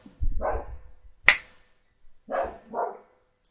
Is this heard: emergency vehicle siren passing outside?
no